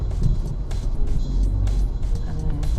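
A car is being parked on a street in Istanbul's Ortaköy district, its steady low engine rumble running throughout close by, with no speech.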